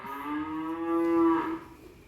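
A Limousin cow, reddish-brown and horned, gives one long, loud, tonal moo that swells and then cuts off, heard up close with no one talking.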